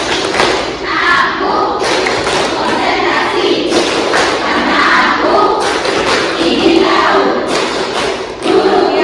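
An Indonesian school class performs the concentration clap, a chanted rhythmic clapping routine with loud thumping claps and shouted voices filling the room throughout, close and energetic.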